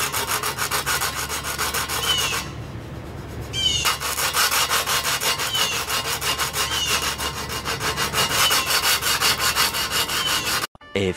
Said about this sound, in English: hopefully I could sand this out, because it is horrible